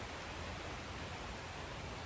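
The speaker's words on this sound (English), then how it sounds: "Here comes the rain." Steady rain falls in a continuous broadband hiss, even and unbroken, with no voices over it.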